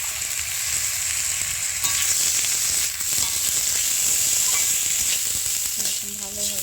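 Badshah Bhog rice fries in ghee with two bay leaves for payesh, a loud, continuous bright sizzle with occasional stirring scrapes, steady and close throughout.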